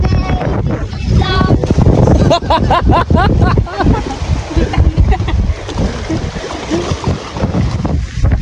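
A bangka boat moving across open water, with constant engine and wind rumble, splashing, and people talking and laughing over the noise.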